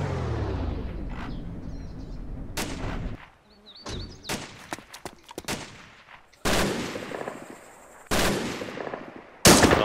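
Gunfire in a World War II video game set in Chernarus in 1944, with sharp bursts and single loud shots mixed with booming reports and quieter gaps between, no talking.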